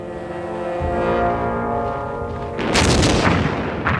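Coastal guns fire at Dieppe, a sustained low droning rumble breaking into a loud, broadband blast of booming gunfire partway through, close and heavy.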